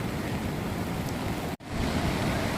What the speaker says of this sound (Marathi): हे बघा नदी.